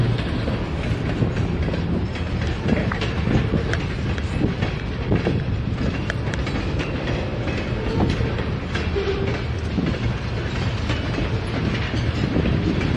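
A long freight train with a K86 crew rolls past with continuous heavy rumbling and rhythmic clattering of wheels on rails, loud and unbroken throughout.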